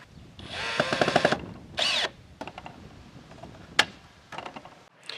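Screws driven into a gate opener bracket with a power drill, several short bursts of whirring, then brief clicks and taps between runs, close and clear.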